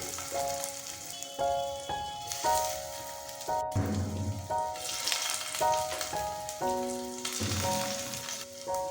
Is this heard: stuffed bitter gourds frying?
yes